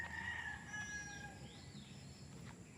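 A rooster crows on a farm kept for fighting cocks, the call moderately distant and faint, with other fowl faintly in the background and no talk.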